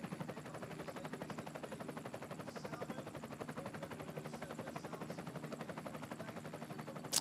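A helicopter hovers over a para-cycling road race at a world championship, its rotor making a fast, even chop that goes on steadily throughout, faint and distant with no voices over it.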